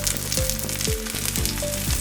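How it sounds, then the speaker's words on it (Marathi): Traditional Maharashtrian dhapate flatbread sizzling in a little oil on a hot griddle, a steady, close frying crackle that continues throughout with no talking. "तव्यावर थोडंसं तेल घालायचं आणि असं उचलून धपाटे तव्यावर टाकूया. मस्त आवाज येतोय ना"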